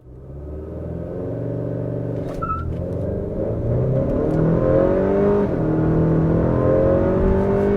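Car on new Michelin Pilot Sport 4S high-performance tires accelerating hard from 0 to 60 mph, heard from inside as a loud, steady engine rumble that swells and holds without a break, with no talking.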